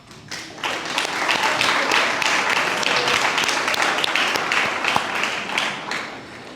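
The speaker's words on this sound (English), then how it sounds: "please stand up so we can give everybody a round of applause" Attendees at a high school athletics hall of fame induction ceremony applaud together after being asked to stand, a broad, even wash of clapping that swells quickly, holds steady and fades near the end.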